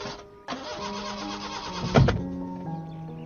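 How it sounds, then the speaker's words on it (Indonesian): A car engine cranks repeatedly but fails to catch, a steady mechanical grinding up close with a sharper surge near the middle before settling back to a droning churn. "Setelah mobil ayah tak nyala-nyala"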